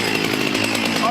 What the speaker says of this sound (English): We've got here the Shindaiwa 18-inch bar 488cc chainsaw. We're going to start cutting up the log now.